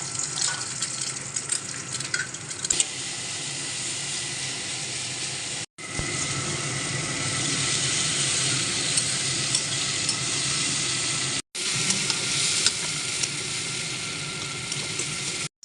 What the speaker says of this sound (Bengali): অন্য একটি পাত্রে ডিমটাকে সুন্দরভাবে গ্রিট করে ভেজে নিচ্ছি।